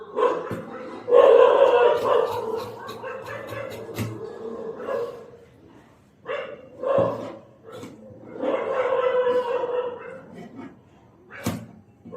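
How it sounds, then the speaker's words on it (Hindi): Dogs bark outside at night, bursts of yips and barks coming and going at a middling distance in a tailor's boutique, with a voice talking over them and a sharp knock near the end. "बाहर कुत्ते भौंक रहे हैं"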